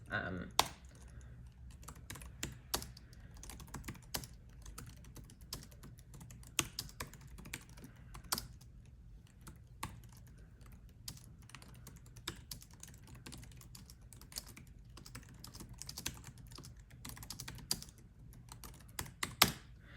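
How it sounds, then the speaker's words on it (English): Steady typing on a Freewrite Traveler keyboard, with crisp, close key clicks running continuously in an irregular rhythm, occasionally punctuated by slightly louder keystrokes. "I just copied down some text from the Freewrite website so you could kind of listen to the keyboard and see my fingers"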